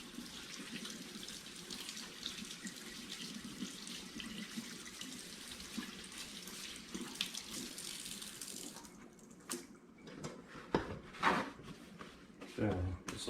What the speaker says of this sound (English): Go ahead and wash my hands here a little bit, get some of that off before we start rubbing them down